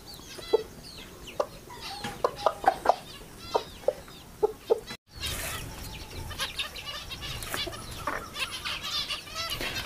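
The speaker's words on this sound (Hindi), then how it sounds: "ये न्यू बंटम का मुर्गा है, अभी इसके साथ मुर्गी मैंने छोड़नी है" A new bantam rooster clucking and calling in a series of short, sharp bursts, fairly close, with a softer, busier stretch of farmyard bird sounds after a brief cut.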